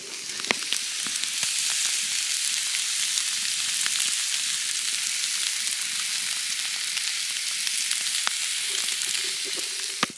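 Food sears on a thick, hot rock at a campsite, giving off a steady, close hiss of sizzling with small scattered pops throughout, continuous and alone.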